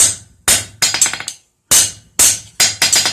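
A blacksmith's hammer strikes metal to chamfer the edges, giving sharp ringing blows in quick bursts of several hits separated by short pauses, close and loud.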